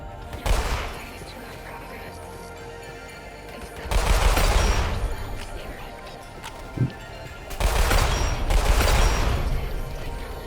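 Rapid bursts of gunfire from weapons in the Roblox game Weird Gun Game, three loud, dense volleys separated by quieter stretches with a voice talking.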